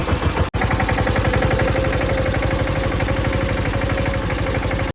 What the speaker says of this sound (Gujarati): આપણે ટ્રેક્ટર લઈ લીધું છે ને હવે જવાનું છે વાડીએ એટલે કરી દઈએ ચાલુ પહેલાં